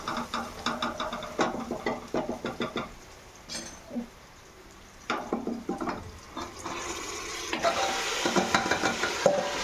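Marinated chicken sizzles in masala inside a pressure cooker for biryani, with bursts of frying and scraping stir sounds that pause briefly midway, then resume louder and more continuous near the end.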